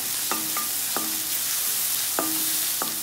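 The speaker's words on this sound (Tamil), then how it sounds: "ஆட் பண்ணி இஞ்சி பூண்டு விழுதோட பச்சை வாசனை போகிற வரைக்கும் வதக்கி எடுத்துக்கோங்க" Ginger-garlic paste with onions sautés in a pan, giving a constant close sizzle punctuated by a few quick stirring scrapes and taps.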